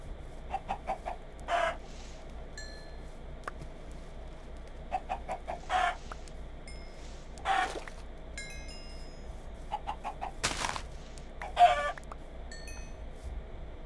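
Chickens in a hardcore survival game cluck in short, scattered bursts, some close and some farther off, with occasional brief rooster-like calls over a quiet background and no talking.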